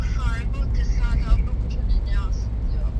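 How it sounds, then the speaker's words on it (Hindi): From inside a car being driven, a low, constant engine and road rumble carries on steadily beneath a person talking throughout. "मैं गाड़ी चला रहा हूँ"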